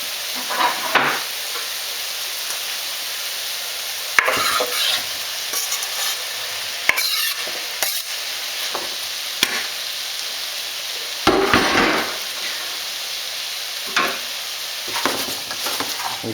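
Sweet potato, onions, tomatoes and broccolini are stirred in a sizzling pan, with a steady frying hiss and repeated scraping stir strokes at irregular intervals, close and clear, no talk.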